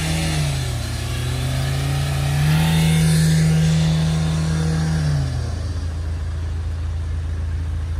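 A car engine in a salvage yard revs loudly and close by. It climbs into a long held rev and then drops back to a rough idle, and it sounds strained and unhealthy.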